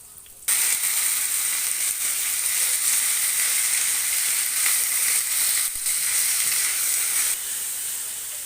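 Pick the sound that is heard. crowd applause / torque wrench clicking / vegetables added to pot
vegetables added to pot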